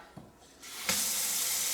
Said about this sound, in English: that's all the water coming out of a tap